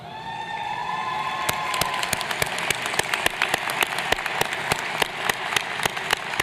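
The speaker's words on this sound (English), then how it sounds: "See, we're so welcoming, you get applause even before you start." A university commencement audience applauds a keynote speaker, sparse claps at first building into brisk, sharp, scattered clapping close by, after a sustained tone fades out early on.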